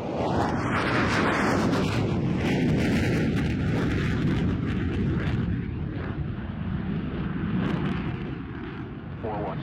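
An F-16C fighter jet takes off at a Red Flag exercise, a loud continuous roaring jet engine rumble dominating throughout and easing slightly toward the end, with voices talking beneath.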